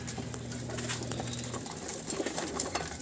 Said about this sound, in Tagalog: so ito yung mga ibon natin mga idol